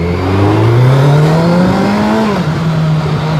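A Kawasaki Z900 motorcycle engine revs hard and close, its pitch climbing steadily for about two seconds, then dropping back to a settled, throaty idle. No other sound competes with it.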